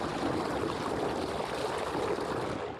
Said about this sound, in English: there's no question that water is draining right now